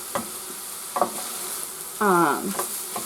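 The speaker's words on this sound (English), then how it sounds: "you're just going to brown this until it is no longer pink" Sausage browns in its own fat in a pan, giving a steady close sizzle with occasional scraping stirs and a short squeaky scrape partway through.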